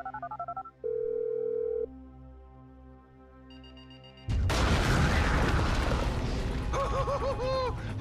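Electronic phone dialing tones and ringing beeps from Grand Theft Auto V, clear and distinct at first, then cut off by a loud burst of music and noise.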